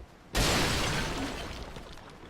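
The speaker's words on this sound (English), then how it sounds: "That shatters that pot." A clay pot in Dark Souls II, modded, shatters with one sudden loud crash, then a scattering crumble of debris trails off over two seconds, no voices.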